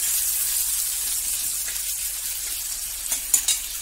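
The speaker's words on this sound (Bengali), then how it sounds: "এই তেলের মধ্যেই আমি আলু আর পেঁয়াজগুলো ভেজে নেব। প্রথমে আলুটা দিয়ে দিচ্ছি।" Small potato pieces frying in hot oil for Bengali puti fish curry, a continuous close bright sizzle that swells into a few louder spits toward the end, with no voices.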